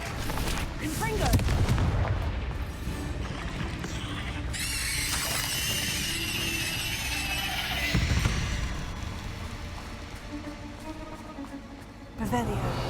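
Confringo spell blasts in the Hogwarts Legacy video game sound as booming explosions and crackling magical whooshes layered over continuous game noise, while a voice calls out spells.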